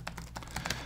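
Keys on an Acer Chromebook 516 Gaming Edition laptop keyboard are typed in a quick, soft, irregular patter of muted clicks with deep travel, close by and steady for under a second, with no talking.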